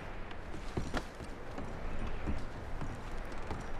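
Horses in Red Dead Redemption 2 clop faintly in an irregular series of hoof thuds against a soft background wash, quiet and somewhat distant.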